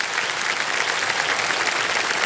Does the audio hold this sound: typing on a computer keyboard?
no